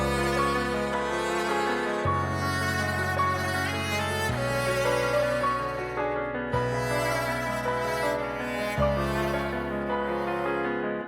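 A melodic music sample with no mastering chain applied: a full, steady layered bed of sustained harmonic tones over a deep bass line whose notes change about every two seconds, loud and continuous throughout.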